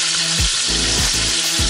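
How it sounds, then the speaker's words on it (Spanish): Pieces of pork rib dropped into hot oil set off a loud, steady sizzle and frying crackle. Low thuds recur at a regular pace as more meat lands in the pan, with no talking. "ya tenemos el aceite caliente. Vamos echando nuestra carne."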